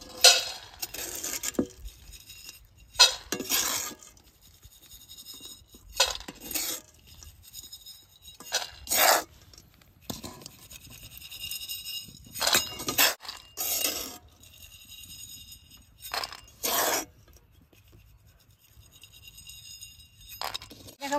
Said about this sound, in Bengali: বালুর গরমে সুন্দর ঠাস ঠাস ফুটছে